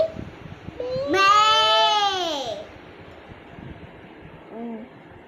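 A voice imitates a goat bleating with one long, wavering, quavering bleat, followed later by a short, fainter second call over a quiet room background.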